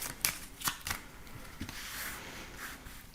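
Tarot cards are shuffled by hand before a reading, with a few sharp riffling flicks close by and then a softer continuous shuffle, quiet and with no talking.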